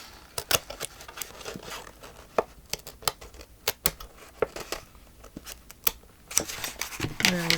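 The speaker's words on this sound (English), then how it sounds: "I'll flip it over so I can cut along this edge" Scissors snip through decorative paper along an edge for a handmade journal, a close series of crisp, irregular cuts with short pauses, ending in a rustle of handled paper.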